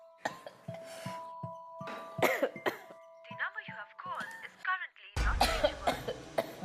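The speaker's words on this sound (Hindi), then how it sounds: "इतनी खांसी क्यों आ रही है?" A woman coughs repeatedly in harsh bursts close by, with a chime-like tone and voices around, then a loud rumbling noise near the end.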